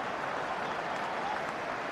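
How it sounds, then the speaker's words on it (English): A football stadium crowd at a Liverpool match against West Brom gives a steady, distant ripple of applause, a soft, even wash of many hands with no single voice rising above it. "Steady ripple of applause to greet that."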